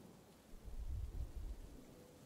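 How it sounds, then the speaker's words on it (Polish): Heavy but calm rain falls steadily as a soft, even hiss with a low rumbling undertone, faint and continuous throughout. "Deszcz jest obfity, ale spokojny."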